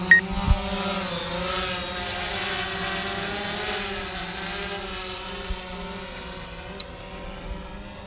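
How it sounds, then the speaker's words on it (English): A DJI Phantom 4 drone spins up its motors and lifts off, a steady high-pitched propeller whine with rising and shifting tones, heard fairly close, with a few small clicks and no talk. "let's go ahead and start up the motors and take off"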